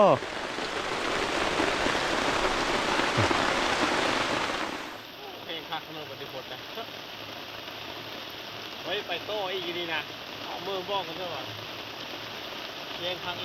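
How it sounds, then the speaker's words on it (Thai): Heavy rain pours down in a dense, loud hiss for about five seconds, then cuts to a quieter scene where softer rainfall continues beneath someone talking. "ฝนก็ตกลงมาตลอด"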